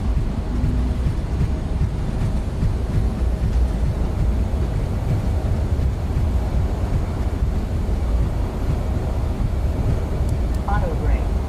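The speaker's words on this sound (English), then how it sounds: "Reverser engine." In Microsoft Flight Simulator, an Embraer E170's thrust reversers roar as a loud, steady, rumbling wash of engine noise during the landing rollout, continuous and even throughout with a brief chime near the end.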